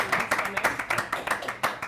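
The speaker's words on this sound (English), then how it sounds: "Give her a round of applause" Clapping from a small audience greets a contestant on a classroom quiz game show, a short burst of rhythmic, fairly close claps with a voice speaking over it.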